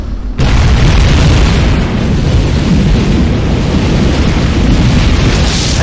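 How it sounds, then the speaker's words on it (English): A loud, sustained explosion roar from the space combat game Tachyon: The Fringe bursts in abruptly and holds as a dense, rumbling blast for several seconds without any speech. "There's been some kind of explosion."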